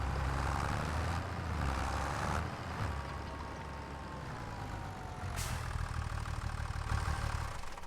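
A weak tractor's engine runs steadily in Farming Simulator 25 with a low, continuous hum, near and fairly loud.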